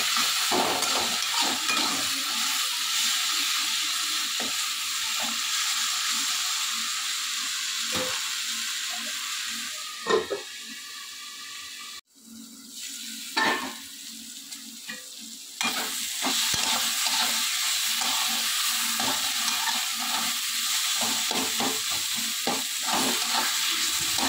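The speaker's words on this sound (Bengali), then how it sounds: "ভালো করে নাড়িয়ে চাড়িয়ে এটাকে ভালো করে ভেজে নিতে হবে।" Moringa drumsticks fry in a pan with loud, continuous sizzling and steamy hiss, broken by scraping stirs and a brief lull midway when the pan quiets before the sizzle returns at full strength.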